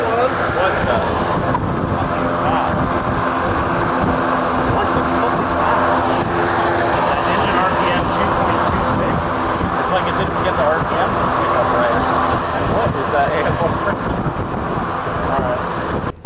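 A BMW E92 M3 running on E85 fuel roars steadily on a dyno, a loud, continuous broadband engine and exhaust noise with a sustained even tone throughout.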